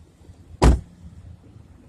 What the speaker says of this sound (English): Just going to pop the trunk while we're here.